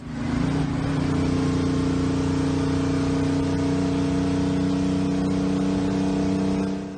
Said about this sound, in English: A Detroit diesel two-stroke at full load produces a sound experienced ears can recognize